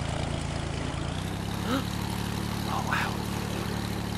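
Small propeller plane's engine drones steadily as it rolls for takeoff in the Airport Master airport game, a constant buzzing hum with a voice exclaiming briefly over it.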